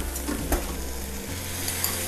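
Noodles are stir-fried in a pot for teriyaki salmon noodles, with a loud steady sizzle and a single clunk of a utensil against the pot, heard up close.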